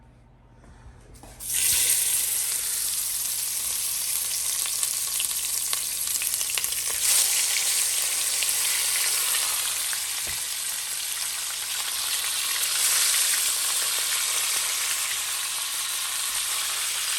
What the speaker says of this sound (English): we're going to brown all sides of the taco piece briskets